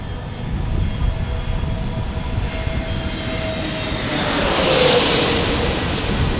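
An Airbus A321neo arrives at San Diego airport, its jet engines a loud continuous roar with a faint whine that swells slightly as it passes close by, with no voices.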